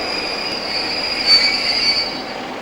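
Class 47 diesel locomotive 47810 draws in with a passenger train from Bristol Temple Meads, wheels squealing in a loud, sustained high screech over steady rolling rumble, with a brief swell midway and no voices.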